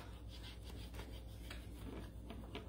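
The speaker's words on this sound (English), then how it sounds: "I mean, you definitely have to rub." Steady, close rubbing of a Prima transfer onto a wooden jewelry armoire, a continuous raspy friction with light scratchy strokes and no talking.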